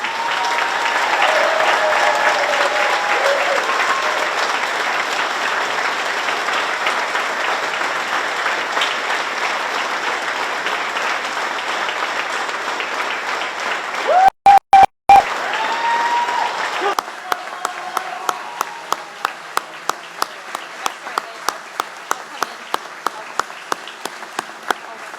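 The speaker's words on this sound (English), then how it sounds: "face the crowd so that we can give you one final applause" A graduation-ceremony crowd applauds its graduating seniors with sustained, loud clapping that carries through most of the stretch, then thins into scattered claps as voices come up near the end.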